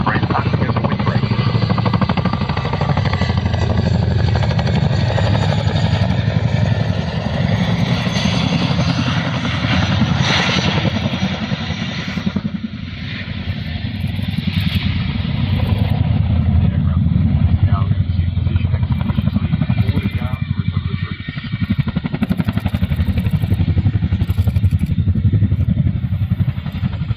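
A Boeing Chinook helicopter flying a roll demo at the RAF Cosford airshow, heard as a loud, continuous heavy rotor and engine roar that swells and dips slightly while outdoors.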